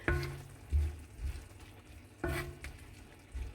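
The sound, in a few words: stir frying mushrooms sizzling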